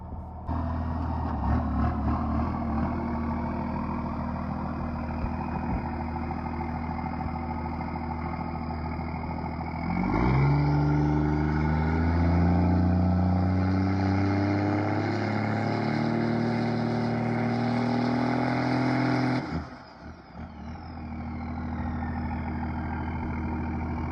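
A diesel pickup truck with a VP44 injection pump, making 583 wheel horsepower and swapped from an NV4500 manual to a 47RE automatic, idles then revs hard with a rising engine note, holds it, and drops off abruptly; no talking.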